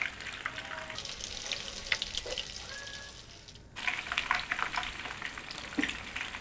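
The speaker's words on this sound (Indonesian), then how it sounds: "Nah, ini sebenarnya udah gorengan kedua, soalnya gorengan pertama tuh nempel-nempel banget." Cassava leaf rolls fry in hot oil in a nonstick pan on their second batch, giving a steady close crackling sizzle that dips briefly midway and then resumes at full strength.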